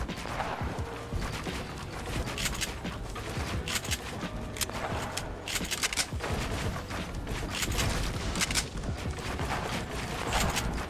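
Fortnite gunfire rattles through a 1v1 match in rapid bursts and sharp single shots, with building and mechanical clatter mixed in, loud and nearly continuous throughout.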